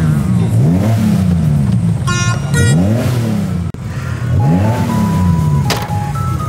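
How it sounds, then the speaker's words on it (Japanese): A Nissan Skyline Hakosuka GT-R with the S20 engine is revved hard in repeated loud throttle blips that rise and fall, heard up close, with a few brief tones and a faint voice between bursts. "ハコスカ GTR のねアクセルをね煽らせていただいた"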